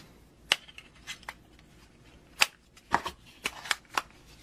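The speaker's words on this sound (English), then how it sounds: "You also need to install batteries on the transmitter." AAA batteries being fitted into a key finder transmitter, a string of sharp close plastic clicks and snaps at irregular intervals with quiet pauses between.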